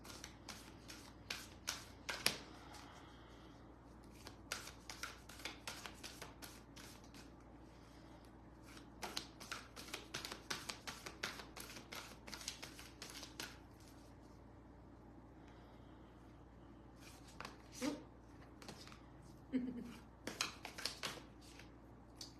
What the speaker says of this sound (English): let's pull a card for Emery, please